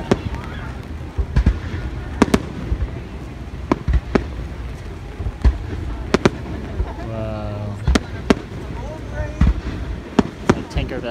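Fourth of July fireworks in rainy Philadelphia burst as a series of sharp, loud booms at irregular intervals, with some near and some farther off, and people talking between the explosions.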